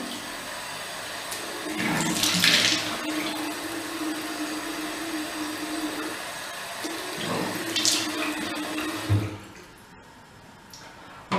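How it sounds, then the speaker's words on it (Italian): Lukewarm tap water runs steadily into a bathroom sink during face washing, a continuous close splashing hiss with brief louder gushes, ending as the flow stops. "Quindi mi vado a lavare il viso, acqua tiepida per non avere dei microtraumi."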